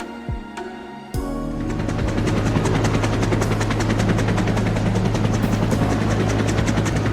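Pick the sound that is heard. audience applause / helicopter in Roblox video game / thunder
helicopter in Roblox video game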